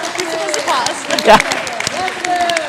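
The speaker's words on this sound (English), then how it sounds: "You want to clap for that" Scattered clapping from a small audience at a River Falls volleyball preview show, with light claps beneath people talking and a brief brighter burst midway.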